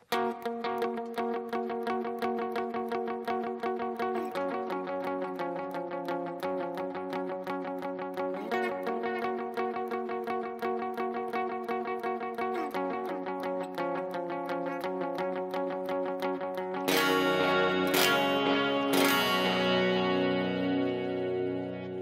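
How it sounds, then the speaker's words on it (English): Electric guitar plays a bouncy dotted-eighth part through delay, repeating notes smearing into a continuous shimmering pulse, then loud, brighter ringing chords near the end. "we play like this bouncy dotted eighth sounding thing"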